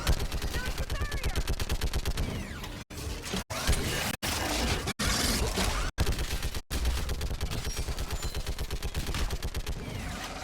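Sustained rapid automatic gunfire from a sci-fi shooter game, Mass Effect 3, during a battle on a bridge; dense continuous bursts broken by several short pauses, loud and close throughout.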